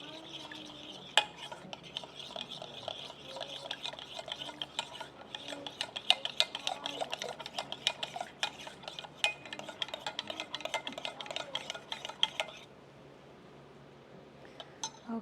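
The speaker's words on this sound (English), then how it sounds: "And then we're just going to stir that up." Ingredients stirred in a bowl during a plant-based cooking class: rapid, close scraping and clinking of a utensil against the bowl for about twelve seconds, then stopping to near quiet.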